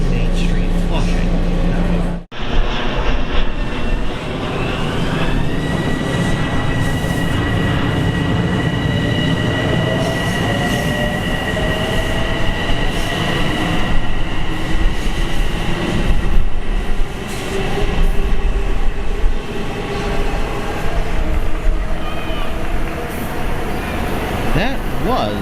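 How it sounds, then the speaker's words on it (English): An M7 commuter train rumbles past close by, its steady roar and clatter filling the clip, with rising electric motor whine and occasional squeals. "That was my train out of Grand Central Terminal, an M7 set."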